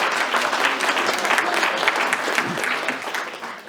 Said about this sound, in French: Un applaudissement, s'il vous plaît, un applaudissement.